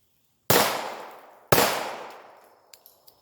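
Two sharp gunshots about a second apart, each with a long fading echo outdoors, from a .22 revolver or semi-auto pistol, followed by a few faint metallic clicks.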